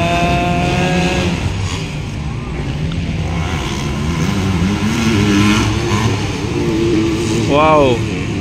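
Motorcycles race in a 50cc-class battle at a pro lites final in Maguindanao, engines revving and droning loudly and continuously with rising and falling pitch beneath excited commentary.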